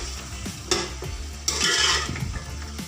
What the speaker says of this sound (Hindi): 2 से 3 मिनट हम मसाले के साथ गोश्त को भूनेंगे ताकि मसाले की खुशबू आ जाए गोश्त में।